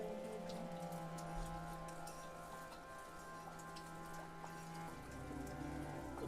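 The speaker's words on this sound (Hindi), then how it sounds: "मैं आपको दिखाऊंगा बाहर कितनी ज़्यादा बारिश हो रही है।" Heavy rain patters steadily outdoors, a continuous wash of drops heard at a distance alongside a faint tonal hum, with no voices.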